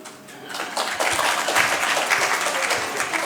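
An audience applauds after a scene in a live theatre drama. The clapping is dense and sustained and swells steadily, with a few faint voices underneath.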